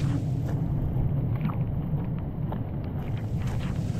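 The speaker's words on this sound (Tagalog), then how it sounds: "Dahil po sa lakas ng hangin, ulan." Steady blustery wind in a rainstorm rumbles against the microphone with a low, continuous roar, loud and unbroken throughout.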